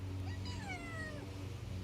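A pet cat shut in a cage gives a single drawn-out meow that rises and then falls, heard close over a steady low background hum.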